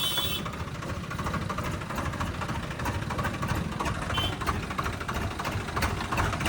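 A Massey 7250 or Swaraj 744 XT tractor engine runs close by as a steady, loud, rumbling drone that holds an even level throughout.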